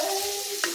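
Fish curry simmering in a pan with onion and tomato, giving a steady close bubbling sizzle throughout and one brief louder pop near the end.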